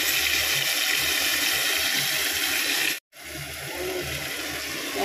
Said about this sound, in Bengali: জলই আছে, ঢেলে দিয়ে দাও।